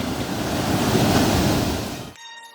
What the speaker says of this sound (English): There were terrible waves and it was too good.